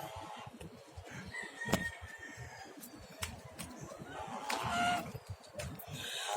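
Hungry pet ducks and geese call out at feeding time, giving scattered honks and quacks at close range over a noisy outdoor background with some rustling.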